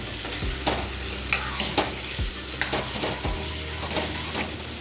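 Boiled jackfruit seeds sizzle in hot oil in a pan for a prawn curry, with a spatula scraping and stirring in repeated close strokes over a continuous fry.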